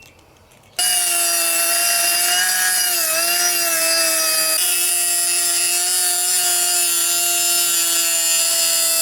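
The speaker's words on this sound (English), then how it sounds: "Use a ring filer to just nip the ends a little bit." A motorized ring filer with a 1/8-inch wheel grinds the ends of a piston-style sealing ring for a Detroit Series 60 exhaust manifold slip joint. A loud, steady, whining grind starts abruptly after a brief quiet moment and runs without a break.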